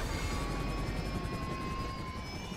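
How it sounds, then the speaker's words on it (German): A helicopter in GTA Online flies past overhead as a steady, loud rotor and turbine drone that holds evenly for a few seconds. "Landet der Heli hier drauf? Bitte nicht. Ne, fliegt vorbei."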